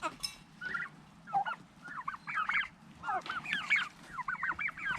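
Turkeys on a small farm kept alongside goats give repeated honking, gobbling calls in irregular clusters, fairly close and growing busier toward the end, with no talk over them.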